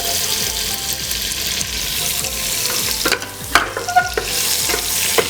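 Chopped garlic and bay leaves frying in 25 grams of butter, a dense continuous sizzle with a few spatula scrapes and taps near the end, close and fairly loud, no talking.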